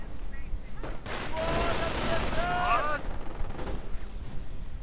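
An MG42 machine gun firing in a World War II strategy game, sustained bursts of gunfire blended with other battle noise, with a narrator talking over it.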